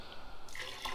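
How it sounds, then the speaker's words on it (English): Water running into a container of about five gallons used for washing dirt bike parts, heard as a brief, steady close-up splashing trickle. "I would say there's about 5 gallons of water in there now."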